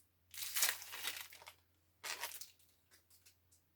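A package of witchcraft supplies holding a selenite wand is torn open by hand, with two bursts of close, soft crinkling and rustling of wrapping, followed by a few quieter rustles.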